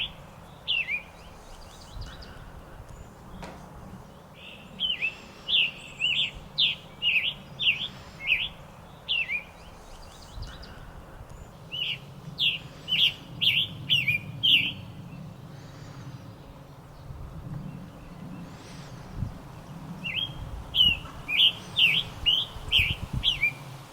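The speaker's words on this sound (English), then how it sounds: "That is a beautiful bird." A scarlet tanager sings outdoors in short, burry, chirping phrases repeated in clusters with brief pauses, fairly clear over a low background rumble.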